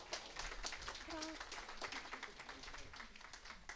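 An audience claps together at the close of a coffee-and-conversation talk session, a steady ripple of hand claps at moderate level lasting a few seconds, with a few voices murmuring underneath.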